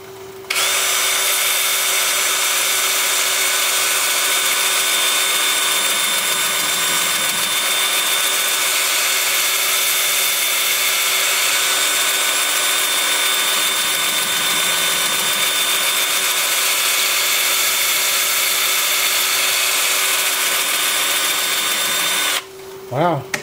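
A steady high-pitched whirring drone of a spinning manzanita wood piece on a lathe runs continuously for over twenty seconds, with a faint rasping hiss of a sanding disc underneath.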